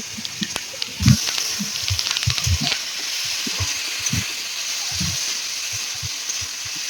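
Potato pieces fry with spices in a pan for a niramish aloo paneer dish, a steady close sizzle with scattered clinks and stirring scrapes.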